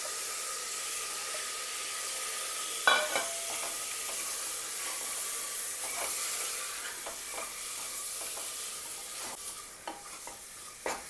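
Mutton chops fry Kolhapuri-style in hot oil with ginger, garlic and turmeric, giving a steady close sizzle broken by scraping stirs, with no talking.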